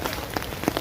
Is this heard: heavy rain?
yes